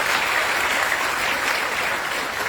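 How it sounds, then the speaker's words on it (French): An audience at a Technovation Girls celebration event applauds its young participants: steady, dense clapping from many hands, close and fairly loud, holding evenly throughout without any voices. "Je pense que vous pouvez vous applaudir, les jeunes"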